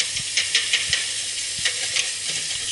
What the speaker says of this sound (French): Il suffit de bien mélanger.